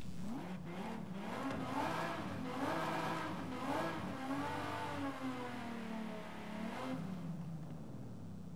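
A Formula Drift Supra race car engine in Forza Horizon 5 revs up and down in wavering sweeps, at a moderate, fairly distant level with no talk over it.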